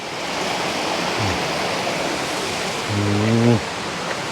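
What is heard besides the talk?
Huai Kaew waterfall, Chiang Mai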